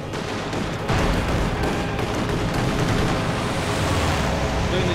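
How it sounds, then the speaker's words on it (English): Soviet air support strafing run in Company of Heroes 2 battle: a dense, loud rush of rapid gunfire and rumbling explosions, steady throughout with a sharp surge near the start. "Quick strafing run."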